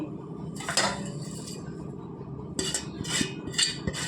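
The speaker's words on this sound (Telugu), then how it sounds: "సన్నగా తరిగిన కొత్తిమీర ఇప్పుడు బాగా కలుపుకోవాలండి" A spoon mixes raw prawn vada batter with finely chopped coriander in a bowl, giving three separate bursts of scraping and clinking against the bowl, with a steady low background hum in the gaps.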